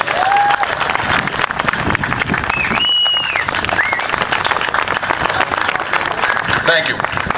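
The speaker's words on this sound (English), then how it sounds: "so let's get them a really large round of applause." Crowd applause at an outdoor rally, sustained clapping and some cheering from a large gathering, with a few whistles rising above the din throughout.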